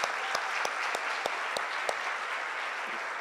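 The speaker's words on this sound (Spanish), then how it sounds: "así que yo quiero pedir un fuerte aplauso para Eduardo." Audience applause for Eduardo at a university installation ceremony in Colombia: a steady, dense wash of clapping with a few sharper individual claps standing out, sustained at even loudness throughout.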